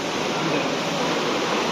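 Steady flowing water at a fountain display inside Marina Bay Sands, Singapore, a constant broad rushing wash that stays loud and even throughout, with no voices over it.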